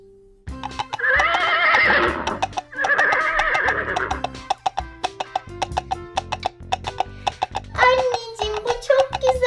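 A toy horse gives out repeated loud, electronic neighs and whinnies, close and clear, with a short pause between the calls and a final whinny at the end.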